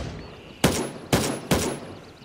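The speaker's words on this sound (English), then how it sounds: "I'm gonna pretend that's not people shooting" Three loud, sharp gunshot bursts ring out about half a second apart in the military shooter Gray Zone Warfare, each with a lingering tail, over quiet background ambience.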